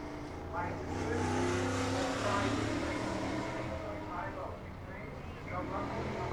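A race car at Cornwall Motor Speedway pulls back onto the oval track after a hood is removed, its engine droning steadily under a commentator's voice amid broad track noise.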